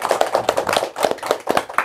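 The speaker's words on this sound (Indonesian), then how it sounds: "Tepuk tangan dulu." Children at a remote village school clap their hands together in a lively, uneven burst of quick claps, close and fairly loud, with a few faint voices mixed in.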